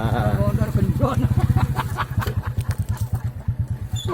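A motorcycle engine idles with a steady, rapid putter of firing pulses, close and fairly loud throughout, while a voice talks over the first part.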